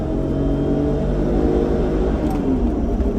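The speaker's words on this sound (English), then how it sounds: "Now it's time to get it out on the road and see how it drives. All right, driving the E34 M5." A 1991 BMW M5 E34 sport sedan driving on the road, its steady engine drone and road rumble heard from inside the cabin, continuous and fairly loud with no talking.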